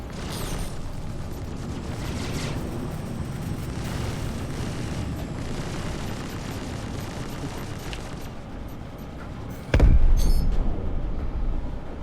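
Spaceship explosions boom over a dense, rumbling Star Citizen soundscape, with a sudden heavy blast near the end that swells into a roaring rumble.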